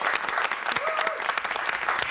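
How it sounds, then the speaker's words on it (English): Studio audience applause on a live morning TV show, steady dense clapping throughout with a brief whistle-like tone partway through. "We applaud you."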